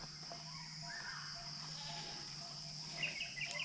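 A goat bleats faintly at a distance outdoors after heavy rain, a few short wavering calls over a quiet background with crickets or insects.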